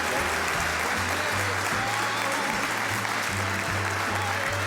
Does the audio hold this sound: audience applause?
yes